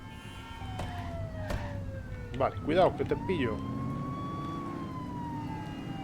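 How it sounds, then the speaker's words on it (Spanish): A police car siren from The Precinct video game wails in rising and falling sweeps under engine hum while a player talks over it. "¿Cómo quito la sirena?"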